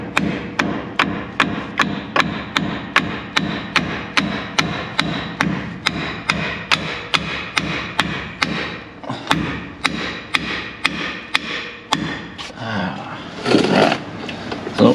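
A hammer strikes a brake rotor on a Chevy Silverado 2500 HD, landing sharp metallic blows in a steady rhythm close by, with a brief pause and some scraping handling toward the end.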